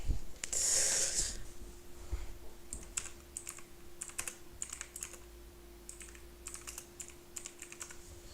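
Typing on a computer keyboard comes in short irregular bursts of close, crisp key clicks, with a loud breathy snort or sniff near the start and a faint hum underneath.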